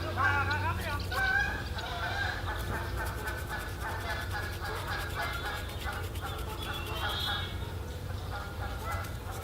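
Geese honk by a pond outdoors, a scattered series of calls at moderate distance mixed with other bird sounds, while a person talks quietly over them.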